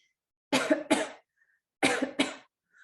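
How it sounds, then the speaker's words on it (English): Two pairs of sharp, close coughs separated by a short pause, each pair a quick double burst with silence between. "If you're able to, let's just cough."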